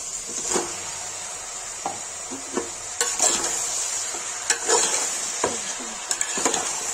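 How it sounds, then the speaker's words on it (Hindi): Chicken frying in hot oil with fried onions for a chicken curry, with a constant sizzle under repeated scraping and stirring knocks of a utensil against the pan, no voices. "प्याज भून गया तो चिकन डाल देंगे"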